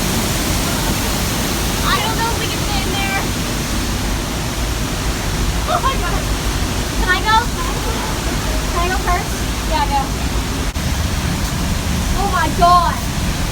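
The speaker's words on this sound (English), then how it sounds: "The waterfall is right there. We can literally touch it." Loud, steady roar of a waterfall close by, broadband rushing water filling the scene, with excited voices calling out now and then over it.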